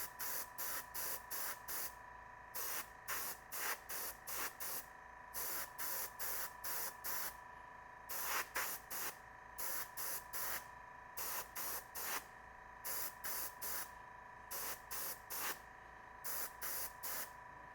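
Short repeated bursts of spray paint go on in light coats over a model P-51D Mustang, a steady rhythm of hissing puffs separated by brief pauses, close and clear with no talking.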